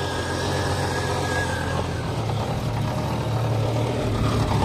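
1989 Jeep XJ idling with an automatic transmission, exhaust rattling against the transmission; a steady low engine rumble with irregular puffing exhaust pulses, close and unbroken, no talking.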